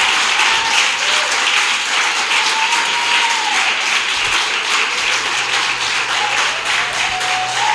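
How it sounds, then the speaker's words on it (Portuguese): A church congregation gives a pastor a loud welcoming round of applause, many hands clapping in a dense, sustained roar that fills the room evenly from start to finish. "Eu queria que a gente recebesse essa mulher de Deus com um forte aplauso ao Senhor."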